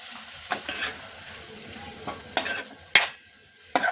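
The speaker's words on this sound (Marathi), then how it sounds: "मेथी या लसूणच्या ह्याच्यामध्ये आणि तेलामध्ये फ्राय करून घेऊया" Fenugreek leaves and garlic fry in oil under a soft sizzle, broken by several sharp stirring scrapes of a spatula against the pan, close and intermittent.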